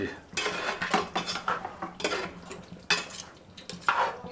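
A spoon scrapes and clanks against a metal pot of beef tongue curry in quick, irregular strokes, close and fairly loud, with no voices.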